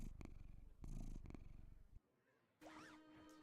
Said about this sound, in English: Just gotta record some purrs for the YouTube video.